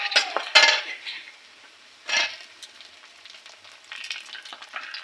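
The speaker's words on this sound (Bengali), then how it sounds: "পেঁয়াজটা হালকা ভাজা হয়ে গেলে তাতে আমরা দিয়ে নেবো টমেটো কুচি" Onion and chopped tomato frying in a pan for a fish curry, heard as a soft sizzle with sharp clinks and scrapes of a spoon stirring against the pan in intermittent bursts, close and moderately loud, with no talk.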